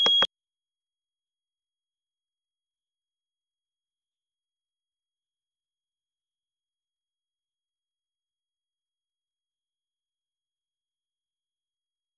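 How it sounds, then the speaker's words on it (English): A single loud electronic beep from a fire alarm test sounds at the very start, a short piercing tone followed by silence for the rest of the stretch. "So fire alarm test, and that was loud."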